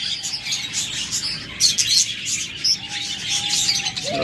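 A breeding pair of pet birds chirps from a cage, bright repeated tweets at close range over a busy background of other birds, with a few soft whistled notes.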